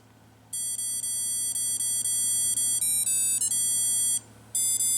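An Ekster aluminum tracker card sounds its alarm, a loud, high-pitched electronic ringtone melody of rapid beeps repeating with a brief pause, alone over quiet room hum.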